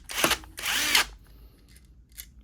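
Two short bursts from a power drill backing screws out of the regulator on a Bosch alternator from a VW Sharan, each whirring loudly for about half a second, followed by faint clicks and handling noise.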